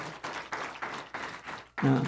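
A handful of people in a Sunday church service clap in a few short, uneven bursts. The applause is thin and fairly faint, with a brief voice at the end.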